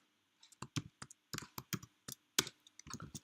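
Someone typing HTML code on a computer keyboard, with quiet, close, irregular clusters of key clicks and short pauses between bursts.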